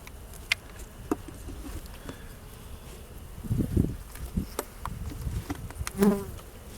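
Honey bees buzz steadily and up close during a beehive inspection, a constant droning hum with scattered soft rustles and clicks from handling the hive, and a brief louder swell near the end; no one talks.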